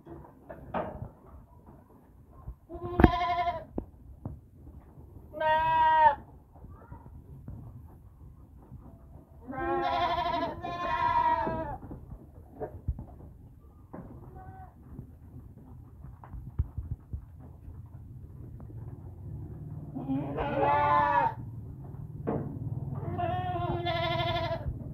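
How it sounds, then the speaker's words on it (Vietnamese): Goats bleat repeatedly in a weekend goat pen, loud close calls in bursts separated by pauses, over a low steady hum and scattered background noise. "Chuồng dê của mình."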